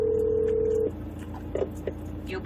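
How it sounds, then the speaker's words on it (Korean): An outgoing telephone call to a relative rings out, a steady ringback tone holding for under a second before breaking off, followed by faint clicks and low background noise, with no talking. "서울 이모한테 전화를 걸어봤습니다"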